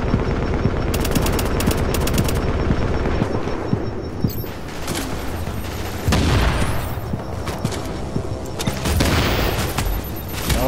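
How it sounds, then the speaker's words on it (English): Repeated grenade launcher fire in a shooter video game, loud rapid bursts of shots and booms running almost without pause, dense and close. "Oh, enough of that fucking grenade launcher."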